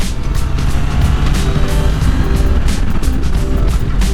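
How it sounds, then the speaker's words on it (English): A 2022 Triumph Trident 660 motorcycle engine pulls steadily under throttle, a loud, continuous drone with a low rumble and rising whine, heard close up with wind noise and no talking. "You're giving it some throttle. It just keeps pulling and pulling."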